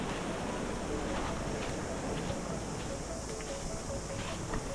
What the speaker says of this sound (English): got a waves breaking up in there, eh?